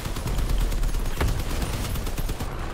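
Sustained gunfire from vehicle weapons in the video game Crossout, a dense, loud, continuous rattle of rapid shots lasting the whole stretch, with no voices over it.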